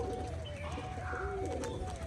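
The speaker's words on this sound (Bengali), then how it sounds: "এই হচ্ছে কিন্তু নর পায়রাটা" Pigeons at a loft during a tumbling flight display of Turkish tumbler birds, with soft low cooing and a bird call over constant outdoor background noise.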